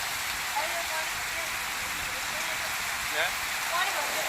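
Heavy monsoon rain pours down in Patan, Gujarat, a dense, steady hiss that holds at an even level throughout with no break.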